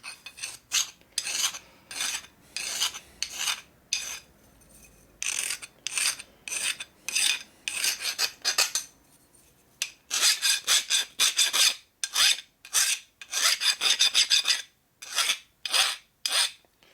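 A metal file rasping across a custom steel Harley bracket in repeated push strokes, rough scraping bursts with short gaps, close and fairly loud, picking up to quicker, denser strokes toward the end, no speech.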